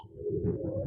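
A pigeon at a pigeon club gives a brief, soft, low coo, faint and close-by with no talk over it.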